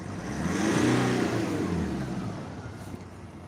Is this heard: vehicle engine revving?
yes